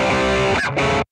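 An electric guitar plays through a BOSS GT-1000 amp model with distortion and the treble adjusted, giving a short, bright, saturated chord. It breaks briefly, rings again, then cuts off cleanly.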